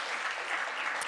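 Audience applause greets an ambassador at a gender debate event in Geneva, a dense, steady wash of clapping filling the whole short moment.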